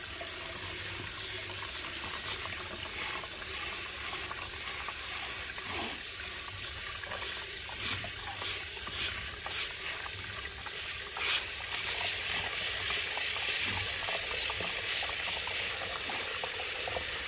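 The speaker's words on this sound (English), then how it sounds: "rinse it until the water starts coming out clear" Water steadily rinsing a K&N air filter, a continuous splashing wash like a running tap, close and fairly even for the whole stretch with no talking.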